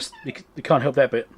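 A cat meows several times close by in a room, short rising and falling cries mixed in with a brief spoken phrase.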